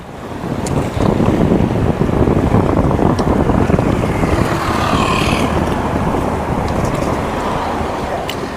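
Strong wind roars steadily at a seaside restaurant in Chonburi, a loud, continuous gusty rush with buffeting against the microphone and a faint wash of surf beneath, lasting throughout with no talking.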